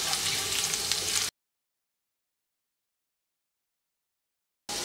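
Minced ginger and garlic sizzle steadily in hot oil in a pan while cooking dal puri filling; a loud, dense frying hiss fills about a second, cuts to silence, then returns briefly at the end.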